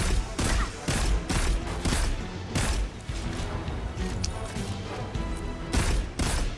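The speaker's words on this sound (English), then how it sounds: "guess we're gonna have a firefight here" Firefight in Destiny 2, with bursts of loud gunshots and impacts arriving in irregular clusters. A busier volley comes early and another near the end, with someone talking faintly underneath.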